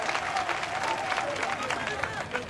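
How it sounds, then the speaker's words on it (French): Audience applauding a minister at a televised debate on Chad's oil revenue management, steady dense clapping filling the whole stretch. "je vous demande d'applaudir le ministre qui accepte d'être ici ce soir."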